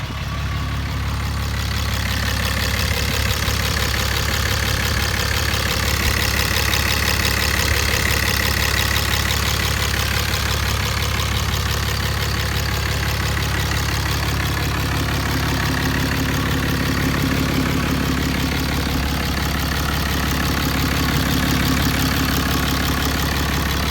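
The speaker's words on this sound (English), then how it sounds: "Let's go listen to the motor real quick." A 2016 Dodge Ram 3500 with a tuned 6.7L Cummins diesel idles close and loud, a steady deep rumble with a faint ticking clatter running unbroken throughout, with no talking.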